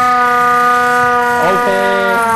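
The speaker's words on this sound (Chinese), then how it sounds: "你看到这个呢是手摇式的防空警报器" A hand-cranked air raid siren on display at a police museum winds out a loud, steady multi-tone wail, its pitch dipping and wavering midway as the crank speed changes.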